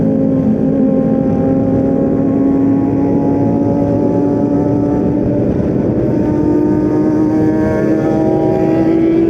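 A group of motorcycles rides together on a touring run, including Kawasaki ZX and Yamaha Scorpio bikes and a Yamaha X-Max scooter, with a loud steady engine drone and slowly shifting pitch throughout.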